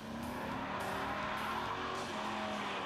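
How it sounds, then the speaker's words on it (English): A Dodge Ram SRT-10 truck with the Viper's 505 cubic inch, 500 horsepower V10 spins its giant 11-inch wide Pirelli tires, a loud steady screech of tire squeal layered over a constant engine roar, running unbroken from start to end. "this baby will smoke those giant 11-inch wide Pirellis for as long as you want"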